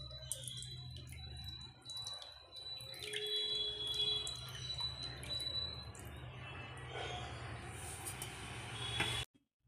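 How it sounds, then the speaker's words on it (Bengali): Water pours and drips steadily over a Shiva idol during a home puja for several seconds, with scattered small splashes and clinks, close by, before stopping abruptly. "ভোলে বাবার মাথায় জল ঢালছি।"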